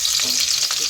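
Cumin seeds and chillies sizzling in hot oil in a pan, a continuous loud close-up frying hiss with no voices.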